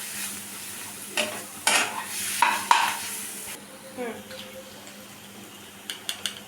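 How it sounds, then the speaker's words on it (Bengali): Chicken masala with green chillies is stir-fried in a pan, a soft sizzle running beneath spatula scrapes and clinks against the metal, with a few sharp taps near the end, close and steady. "আস্তে আস্তে একটু কষাতে হবে রান্নাটা"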